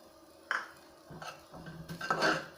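A spoon scraping and knocking in a pan while grated coconut is stirred with ghee, cardamom and cloves, a few distinct clattering strokes close up.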